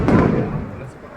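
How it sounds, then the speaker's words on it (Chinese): A single muffled firework boom at an outlet mall fireworks show, a loud low thud that decays over about a second, heard fairly close. "就是这个烟花就比较特殊"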